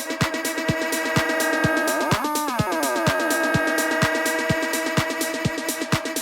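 A vocal sample processed through Ableton's Granulator plugin plays as stuttering, pitch-shifting chopped tones over a steady rhythmic click pattern, with a sliding pitch sweep partway through, loud and without talking.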